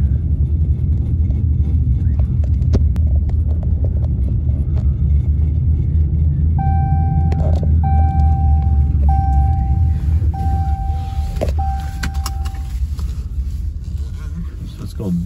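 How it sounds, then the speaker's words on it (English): A car drives out of a neighborhood with a steady low engine and road rumble throughout. A series of short electronic beeps sounds midway, and a person talks over the drive. "here we are driving out of the neighborhood."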